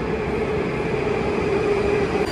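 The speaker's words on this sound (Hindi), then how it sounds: "चलो अपनी मेट्रो आ गई।" A metro train pulls into a station in Russia with a loud, steady rumble and a sustained mechanical whine that holds evenly throughout, with no voices over it.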